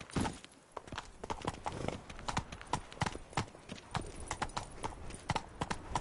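Galloping horse hooves from The Witcher video game, a steady rapid clip-clop rhythm running throughout at close range, with brief spoken lines over it.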